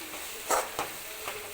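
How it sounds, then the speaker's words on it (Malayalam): Chili powder and spices frying in hot oil while being stirred for a curry, giving brief soft sizzles and a few scraping bursts, quiet and close. "നമുക്കിതൊന്ന് പച്ചമണം മാറുന്നിടം വരെ എണ്ണയ്ക്കകത്തൊന്ന് മൂപ്പിച്ചെടുക്കാം"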